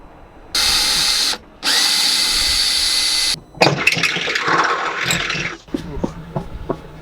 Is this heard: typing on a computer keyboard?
no